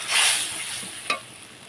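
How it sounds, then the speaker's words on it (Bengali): Spice paste sizzles loudly in a pan as a splash of water goes in, a bright hissing burst that settles into softer frying with a short scrape of stirring near the end. "অল্প একটু জল দিচ্ছি মশলাটাকে ভালোভাবে কষানোর জন্য"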